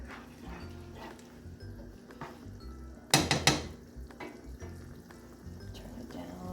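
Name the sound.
stirring sausage and tomato pasta sauce in a pan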